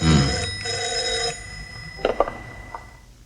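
A telephone rings with steady electronic tones over a dramatic indoor movie scene dubbed in Hindi, a muted background bed continuing beneath, then the ringing gives way to a few short clicks near the end.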